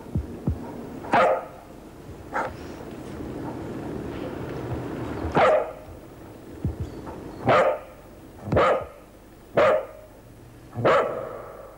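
A dog barks in a steady series of single, sharp woofs spaced about a second apart, fairly close, with a low rumble underneath.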